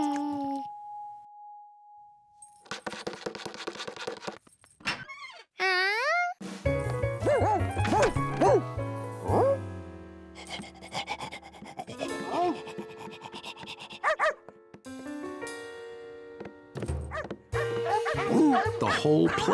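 Many cartoon dogs bark and yip over a busy orchestral score, with several close, loud barks layered among the music.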